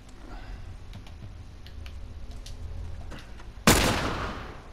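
A single loud gunshot goes off near the end, in The Last of Us Remastered on PS4, with a decaying tail. Faint clicks and quiet game ambience come before it, and no one talks.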